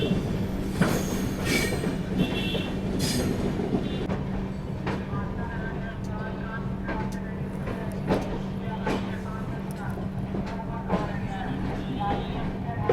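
Bihar Sampark Kranti Superfast Express, train 12565 from Darbhanga to New Delhi, rolling through Gorakhpur Junction station, with a steady low rumble, wheel squeal and clacking on the rails, and faint voices in the background.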